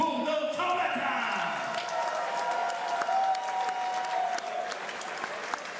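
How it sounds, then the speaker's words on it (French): Crowd at an exhibition fight night applauding the two fighters, a continuous roar of clapping mixed with voices and some cheering, fairly distant and even in level. "une bonne main d'applaudissements pour nos combattants"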